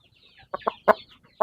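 A giant white chicken in a yard gives a few short, close clucks in quick irregular succession, with quiet pauses between them.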